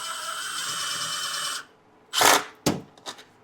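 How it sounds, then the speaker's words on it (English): Power tool whirring on bolts of a metal bracket in the engine bay of a 2003-2009 Lexus RX, a steady mechanical whir that stops, followed by a few sharp clanks and metallic clicks close by. "we have to take off all of the bolts and the 2 nuts in order to remove it"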